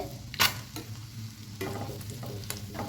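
Eggs frying in a pan make a continuous sizzle, broken by a few sharp spatula scrapes and stirring knocks close by.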